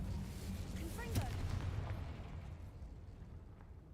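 A Confringo explosive spell in Hogwarts Legacy bursts once near the middle, a sharp blast with crackling sweeps that then fades into the steady game background.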